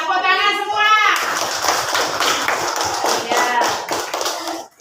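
Children in a classroom clap their hands together in a fast, ragged burst of taps that carries on for several seconds, close by. A voice is heard briefly at the start.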